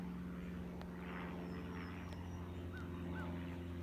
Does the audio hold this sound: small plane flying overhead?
yes